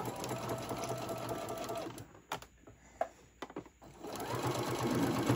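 Sewing machine stitching the seam of a fabric bowl cozy, a close rapid mechanical whir that pauses midway for a few clicks and handling noises, then runs again.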